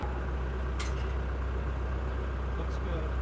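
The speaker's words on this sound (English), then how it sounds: "The tractor's running, we've got power." A tractor engine runs steadily to power a forestry winch, a continuous low idling rumble, close and even throughout, with a brief faint clink partway through.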